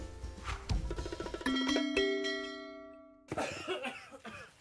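A child with a cough lasting over two weeks coughs several times in quick bursts near the start, followed by a sustained tonal musical chime, then more rough coughing and noise toward the end, in a radio advertisement.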